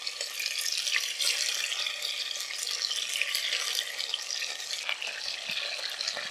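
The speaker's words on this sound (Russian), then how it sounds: "Обжариваю ее на высоком огне." Bone-in chicken pieces, wings and thighs, fry in oil over high heat, a steady close hissing sizzle with small crackling pops throughout and no talking.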